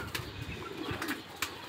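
Two pigeons fight in a small home loft, with quick bursts of wing flapping and faint cooing, soft and close with no voices.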